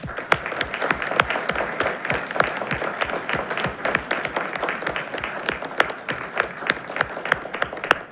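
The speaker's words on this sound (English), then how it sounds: "Another round of applause" A council meeting audience in Oak Park applauds steadily, a dense, even round of clapping from a full room with little talk.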